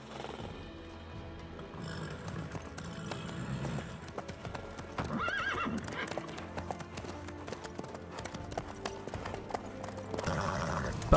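Roach the horse's hooves clip-clop at a steady walking rhythm in The Witcher 3 video game, mixed with game music and ambience, with a brief whinny partway through.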